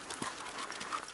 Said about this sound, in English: Our renter, Valerie, she brings her horses down here quite most often